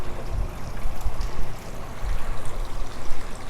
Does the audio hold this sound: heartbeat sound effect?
no